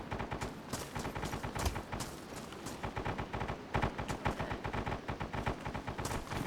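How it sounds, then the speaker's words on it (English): Rapid gunfire in a DayZ-style survival video game, dense overlapping bursts of automatic shots and sharp cracks firing almost nonstop, loud and close, with no voices. "You could hear him shooting."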